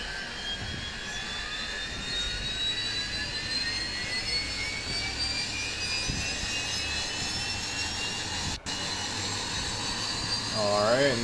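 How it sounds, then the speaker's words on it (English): A Dash 8 Q400 turboprop engine starting up in the X-Plane 10 flight simulator, a continuous turbine whine steadily climbing in pitch over a low rumbling drone, close and sustained. "There goes the prop spinning up."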